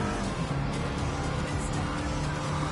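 Engine of a blue Mark 7 rally car with a column shifter, driving in Gran Turismo, a steady continuous drone with a low hum, loud and close throughout with no break.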